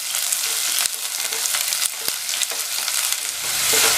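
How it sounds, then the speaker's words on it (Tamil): Two medium onions, sliced lengthwise, sauté loudly in oil with whole spices in a close, dense sizzle. Occasional spatula scrapes and stirring knocks break through it. "அடுத்து 2 மீடியம் சைஸ் வெங்காயம் நீலவாக்கில் கட் பண்ணதை சேர்த்துட்டு வதக்கிக்கலாம்"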